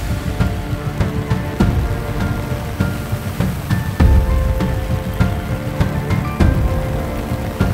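Heavy rain pours steadily in Chandigarh, a loud, dense, continuous patter of water striking surfaces close by, with brief sharper splashes scattered throughout and no voices.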